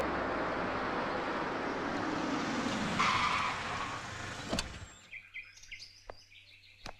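A car in a Hindi film scene with Govinda and Sushmita Sen pulls up with a loud skidding, tire-squealing rush that cuts off at about five seconds, followed by faint chirps and small knocks.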